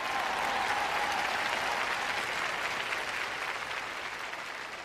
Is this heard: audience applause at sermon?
yes